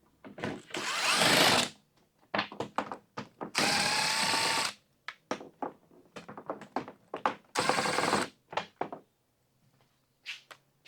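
A power tool with an extension spins out 10 mm fan shroud bolts on an older Chevy or GMC truck, in several loud whirring bursts of a second or two separated by quieter clinks and handling noises.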